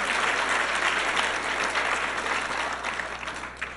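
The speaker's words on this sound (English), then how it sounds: "it's gonna be hard to hold your applause for the first person" Audience at a women's awards ceremony clapping, a dense, steady wash of applause that slowly thins out over a few seconds.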